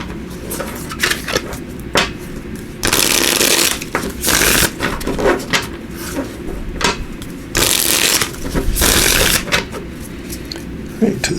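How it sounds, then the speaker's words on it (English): Repeated bursts of tarot cards being riffled and bridged, each shuffle a loud crisp flutter lasting about a second, with softer card handling and taps in between. "let me just give these a shuffle."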